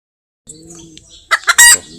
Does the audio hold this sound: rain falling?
no